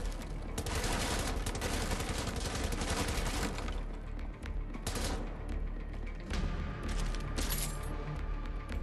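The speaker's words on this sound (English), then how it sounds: "I'm just gonna go ahead and destroy the crate with these" Gunfire in Wolfenstein: The New Order, fired at a crate, comes as loud, dense bursts of rapid shots with heavy low thumps. The shooting pauses briefly in the middle and resumes in shorter volleys, with no talking.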